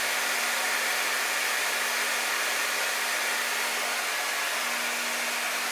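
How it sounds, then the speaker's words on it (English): A blow dryer runs continuously at close range with a steady, even roar while drying hair from underneath, unbroken for the whole stretch with no talking. "I'm going to dry it from the bottom with the blow dryer"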